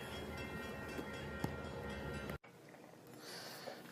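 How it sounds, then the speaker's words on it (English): Freight train passing close by at night, a steady loud roar and rattle of wagons that cuts off abruptly partway through, leaving quieter outdoor ambience. "We've got a freight train break coming up."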